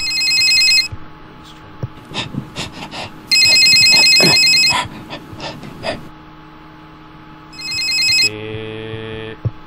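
A telephone rings in the Resident Evil video game, loud repeated electronic bell bursts separated by pauses, with footsteps and other clicks in between and a different tonal chime at the end.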